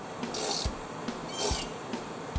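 A hand tap is turned back out of a snapped-off bolt, giving a steady series of short scraping, ratcheting rasps in regular bursts, close by, with no talking.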